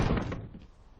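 A door closing as someone walks out, a single heavy thud that decays quickly into a dull resonance.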